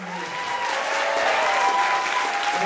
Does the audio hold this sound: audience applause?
yes